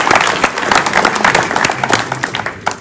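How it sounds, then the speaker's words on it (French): An audience at a 2022 NUPES legislative election campaign rally bursts into steady, dense applause and clapping, a loud crowd sound filling the whole short stretch. "je pense que vous pouvez applaudir ce soir"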